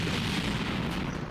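A dense, rumbling blast with crackling booms from a rocket explosion in the game Kerbal Space Program, loud and continuous for about a second, no voices.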